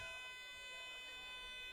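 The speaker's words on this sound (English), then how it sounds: "Siren in the background." A half-time siren at a State Cup sports venue sounds in the background as a steady, faint tonal blare that holds for a couple of seconds before dropping away.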